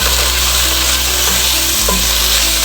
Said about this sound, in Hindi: तो 2 मिनट इसको भूनते हैं, इसका कलर चेंज करते हैं कीमे का।